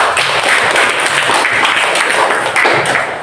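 Ninth-grade madrasah students in a classroom give steady, busy clapping throughout, a short continuous round with no pauses.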